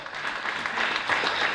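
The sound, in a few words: church congregation applause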